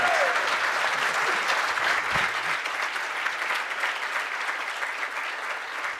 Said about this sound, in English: So could you please freaking clap as loud as you freaking can for Charles Payne?